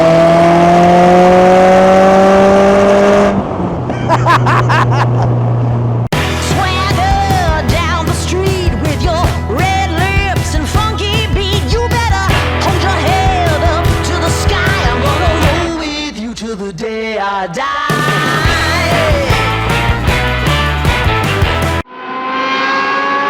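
A kit car out on the road, its engine droning and shifting pitch as it changes gear, loud and close from inside, with abrupt shifts in tone along the way.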